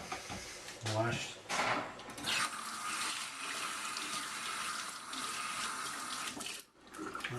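Water runs steadily from a kitchen faucet into the sink through the whole stretch, with a few knocks and clatters over the flow.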